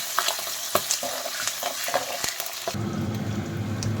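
Green chillies frying and crackling in hot oil in a home kitchen, with a dense continuous sizzle, sharp spattering pops and stirring clatter, growing louder and steadier toward the end; no talking.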